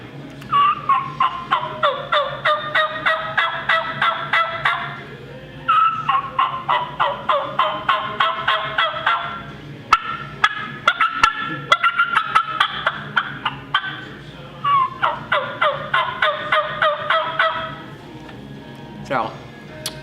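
A voice works a Primos turkey mouth call, imitating a hen turkey in repeated runs of sharp yelps, each series lasting a few seconds with short pauses between, close and loud.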